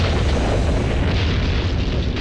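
An atomic bomb blast, caught in rare amateur 1950s footage, roars as a dense, continuous, loud rumble with no pauses.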